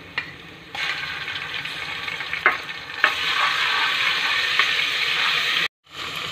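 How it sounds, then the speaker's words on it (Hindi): Garlic ginger paste fries with browned onions in a hot pan, a bright continuous sizzle with a few stirring scrapes, cutting off abruptly near the end before resuming faintly. "अब हम इसमें पहले ऐड करेंगे अपना लहसुन अदरक का पेस्ट"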